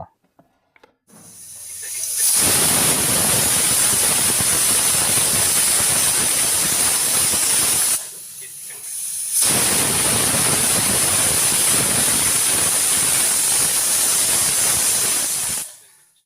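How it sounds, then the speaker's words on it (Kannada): A pressure cooker holding fresh pigeon peas in water vents steam in a loud, close, continuous hiss, broken by one brief dip before a second long blast that cuts off sharply. "ಕಾಳು ಮುಳುಗುವಷ್ಟು ನೀರನ್ನು ಸೇರಿಸ್ಕೊಂಡು ಎರಡು ವಿಜಲ್ ಬರೋವರೆಗೂ ಬೇಯಿಸ್ಕೊಳ್ಳೋಣ"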